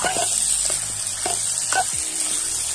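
Chicken with spices fries in a pan over a camp stove, a steady close sizzle punctuated by several sharp scrapes and taps of a utensil stirring against the pan.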